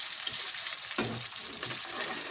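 An egg frying with onion and green chilli in a pan on a home stove gives a steady, close sizzle, with soft stirring or scraping touches and no talking over it.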